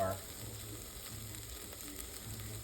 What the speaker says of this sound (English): Now it's really sparingly sizzling